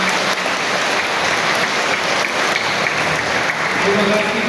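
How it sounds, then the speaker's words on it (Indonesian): Steady applause from a crowd at a children's church service, a continuous wash of many hands clapping at an even level for the whole stretch. "Boleh tepuk tangan untuk kita semua."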